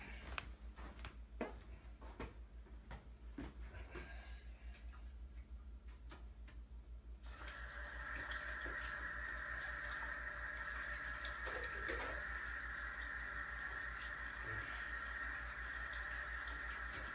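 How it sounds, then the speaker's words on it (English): Tap water runs into a kitchen sink while a plate and hands are washed after cooking a spicy double cheeseburger. Clicks and light clatter come first, then from about seven seconds a steady, loud stream of running water continues to the end. "I had to wash my plate off and, of course, wash my hands"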